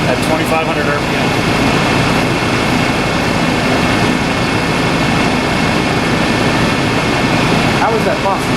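AMC 304 V8 engine running steadily at about 2,500 RPM, a loud continuous drone that fills the whole clip with no break, with a faint voice near the beginning and end.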